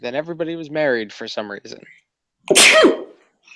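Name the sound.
sneeze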